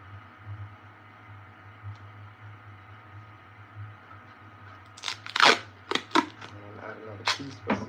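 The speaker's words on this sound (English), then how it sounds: "So I'll do the same thing on this side, just cut some of the foam back." A blade cuts back the foam padding inside a 3D helmet, giving several sharp crunching snips in quick bursts near the end after a quiet, humming stretch.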